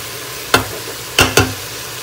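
Tomatoes and spices frying in a pan for aloo mutton, a low steady sizzle punctuated by three sharp scraping stirs, one early and two close together a moment later.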